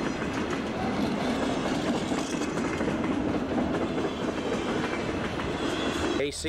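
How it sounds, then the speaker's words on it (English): A Kansas City Southern train rolls into Doremus Yard in Shreveport, Louisiana, its steady rumble and clickety-clack of wheels filling the whole stretch, loud and continuous, with a brief sharper burst near the end. "KCS train number 10 arriving at Doremus Yard, Shreveport, Louisiana."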